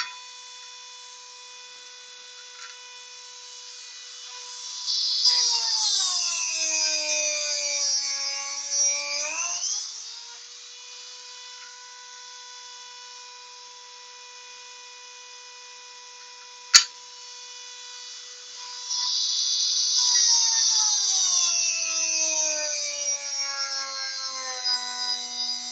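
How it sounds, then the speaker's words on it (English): Dremel rotary tool held in a jig on a lathe, its whine rising into a harsher burning grind against the spinning workpiece in two stretches, over a steady motor hum, with a sharp click midway. "my Dremel is burning its way in rather than cutting its way in"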